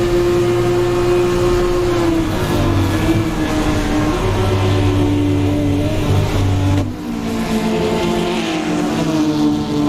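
A BMW race car in a racing sim screams through its gears during a Halloween special club race, a loud, continuous engine note that rises and shifts repeatedly, with other cars' engines layered close by.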